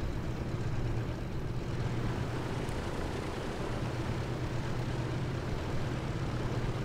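Twin piston engines of a DC-3 airliner in Microsoft Flight Simulator throttle up on the runway after landing, a loud, continuous droning rumble that holds steady throughout with no voices.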